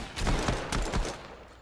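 Several quick gunshots ring out in rapid bursts inside the Fortnite video game, fairly faint and short, with no talking.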